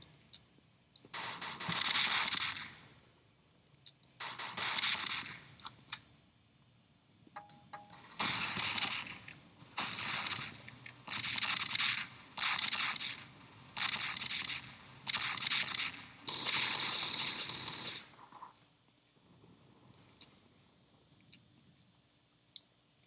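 A shotgun fires repeatedly in the video game Marathon: Squadron, in a series of sharp blasts, each followed by a short rumble, spaced a second or two apart, and the firing stops near the end.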